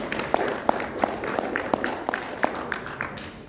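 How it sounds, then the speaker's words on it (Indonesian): Audience clapping at an Indonesian teachers' Q&A session: moderate, uneven applause from a small room crowd with sharp individual claps standing out, steady for a few seconds. "mari kita berikan tepuk tangan"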